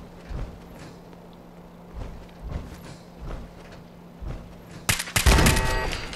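Automated turret fire in Fallout 4 during a Nuka-World outing: several scattered muffled shots with footstep-like thumps, then a loud, dense close-range burst near the end.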